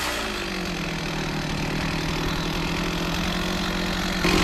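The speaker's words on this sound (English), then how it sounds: "Let it cool down. Let it run. Yeah, normally let it idle," A Holzfforma G660 chainsaw on an Alaskan sawmill idles steadily after a cut, a loud close two-stroke burble that holds even throughout with a slight rise at the very end.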